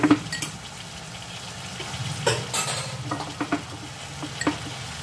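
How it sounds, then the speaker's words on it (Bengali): Chicken curry being stirred and fried in a pan with yogurt: soft scraping of a spoon against the pan with occasional clinks over a low background hiss and hum, fairly quiet, no talk. "এটা এখন বেশ ভালোভাবে আমি কষিয়ে নেব।"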